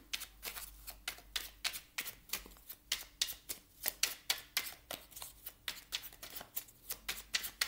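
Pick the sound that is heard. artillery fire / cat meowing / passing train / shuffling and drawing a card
shuffling and drawing a card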